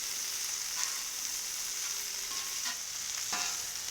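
Sausage and cauliflower fry in fat on a Cuisinart 360 XL griddle, giving a constant bright sizzle broken by a few sharp scraping stirs.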